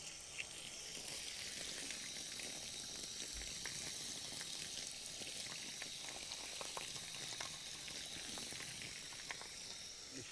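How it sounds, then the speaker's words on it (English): Tap water runs steadily over a K&N air filter being rinsed, a continuous faint splashing hiss with no break and no voices. "We'll give it a rinse."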